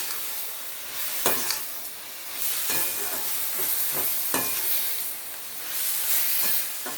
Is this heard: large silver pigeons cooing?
no